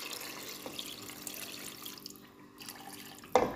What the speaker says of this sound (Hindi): चलें अब इसमें मैं पानी डाल के इसको गलने के लिए रख दूँगी।